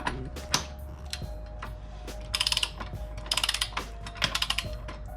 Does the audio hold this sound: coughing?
no